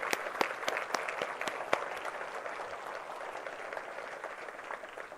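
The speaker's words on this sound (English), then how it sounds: "let us give them a round of applause in appreciation of their hard work" An audience applauds essential and frontline workers at a community address, a sustained wash of clapping with a few sharp nearby claps standing out early, gradually thinning toward the end.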